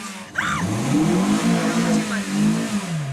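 A car's engine strains and revs steadily while its clutch slips and burns under a struggling learner driver, a loud sustained drone with a brief higher whine near the start.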